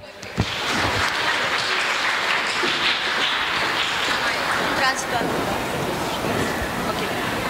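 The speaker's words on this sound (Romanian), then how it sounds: "Vă rog un rând de aplauze." A round of applause from a crowd at an event in Botoșani honoring the poet Mihai Eminescu, a dense, steady wash of clapping with murmuring voices beneath it.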